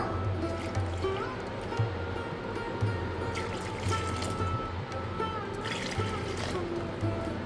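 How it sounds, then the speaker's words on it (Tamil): Water is poured from a cup into ragi (finger millet) flour for traditional koozh, giving a steady close trickle and splash throughout with faint background sounds. "எந்த கப்பில் எடுத்தோமோ அதே கப்பால் ஒரு 3 கப் அளவு தண்ணி சேர்த்துக்கலாம்."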